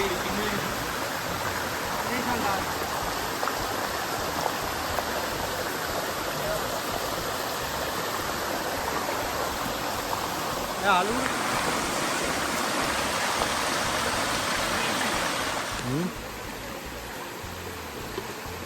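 Steady, loud rush of rain-swollen water flowing over rocks at Kondapalli hidden waterfalls fills the whole clip, constant and close, with a slight drop in level near the end.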